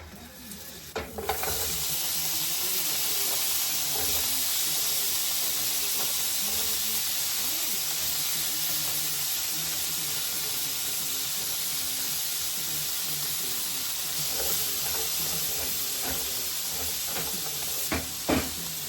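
A tablespoon of butter sizzles steadily and loudly in a hot pan, a dense continuous hiss running throughout with a few faint clinks near the start and end, no voices.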